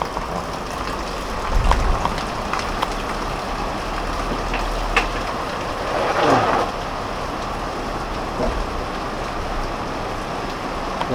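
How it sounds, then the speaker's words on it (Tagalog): Heavy rain pounds a corrugated iron roof over a kitchen parking area in a dense, steady hiss, with a few louder gusts and low rumbles swelling briefly. "Lakas ng ulan"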